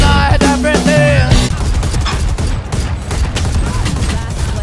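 Rapid gunfire from the video game Valorant, a loud sustained fusillade of shots with booming bursts layered over a song with singing at the start.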